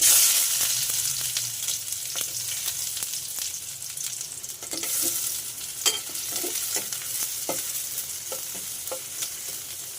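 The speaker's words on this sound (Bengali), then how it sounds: "এবার আমি এতে পেঁয়াজ দিয়ে দিচ্ছি।" Onions sizzle and crackle in hot oil in a wok, with repeated scraping stirs and clicks of a utensil against the pan, close and steady with no talking.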